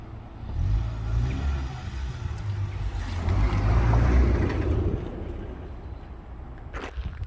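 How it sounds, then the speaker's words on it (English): A Mazda MX-5 Miata NB roadster on freshly installed coilovers set to their softest setting drives with a steady low engine drone and road rumble, swelling slightly midway and easing toward the end, heard from inside the car with no talking. "So there we have it, just taking it for a drive."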